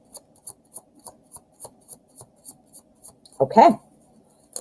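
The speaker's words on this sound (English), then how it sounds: "Messy, but it was a good shuffle." Tarot cards shuffled by hand in a rapid run of light, evenly spaced riffling snaps, ending in a louder flurry as the deck comes together, with a brief spoken word near the end.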